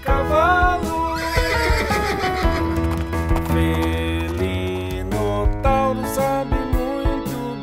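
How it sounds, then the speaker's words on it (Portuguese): A horse neighs and whinnies in a long, falling call, loud and close over a bouncy children's song, with a faint clip-clop feel under the music. "e relincha com o cavalo."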